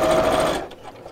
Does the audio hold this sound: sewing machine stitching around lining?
yes